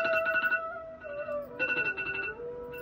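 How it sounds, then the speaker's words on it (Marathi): Mobile phone alarm ringing: a short, bright electronic melody of repeating tonal chirps that shift pitch, heard alone and fairly clear. "आता आपल्याला उठवतो तो आपल्या मोबाईलचा अलार्म"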